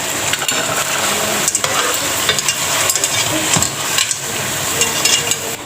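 Mutton karahi with spices, black pepper and karahi masala roasting in a pan, giving a continuous close sizzle broken by repeated stirring and scraping knocks, with no voices.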